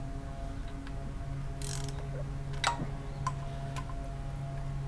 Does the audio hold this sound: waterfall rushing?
no